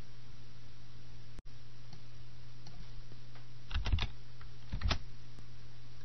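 Brief bursts of computer keyboard typing as a percentage is entered into a field in Excel, a few quick clustered key clicks standing out against a steady low hum, with no voices.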